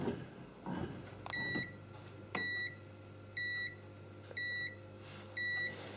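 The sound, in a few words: bread machine beeping when finished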